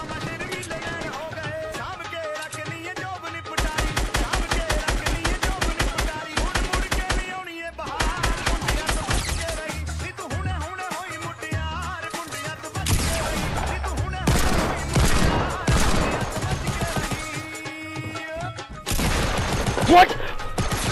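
Rapid, loud bursts of Deagle pistol gunfire in Fortnite, coming in repeated volleys across the stretch with short gaps between them, set among other game sounds and effects.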